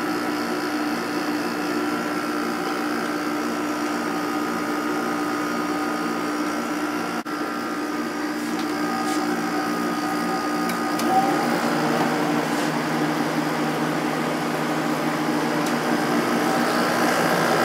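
An 8500 BTU window air conditioner with a Matsushita compressor and Samsung fan motor starting up, giving a steady, fairly loud broadband hum and whir that holds throughout with slight swells and faint clicks.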